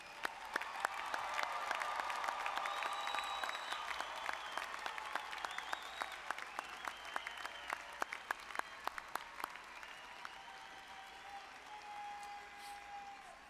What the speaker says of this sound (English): please join me in another round of applause for our newest graduates